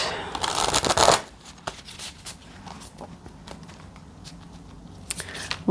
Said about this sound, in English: Give it a good shuffle.